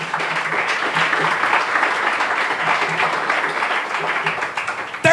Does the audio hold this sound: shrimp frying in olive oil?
no